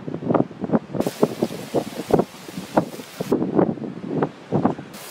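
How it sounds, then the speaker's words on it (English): Gusty outdoor wind buffets the microphone in loud, rumbling rushes and swells, steady throughout with no voices. "Wind's blowing me, you know."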